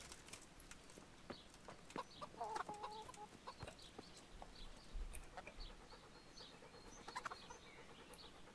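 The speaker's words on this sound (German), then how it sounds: "Ah, hier sind auf jeden Fall Hühner." Chickens cluck in short, scattered bursts among ambient rustling and clip-clop sounds in the medieval video game Kingdom Come: Deliverance, fairly faint and without talk.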